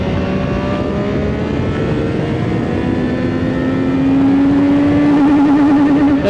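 A CFMOTO 675SR motorcycle accelerates hard in first gear, its engine note loud and close, rising steadily in pitch as revs climb, with no voices over it.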